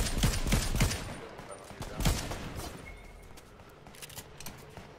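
Gunfire in the video game Fortnite, with rapid bursts of distant shots crackling early on and then thinning out into scattered pops across the rest.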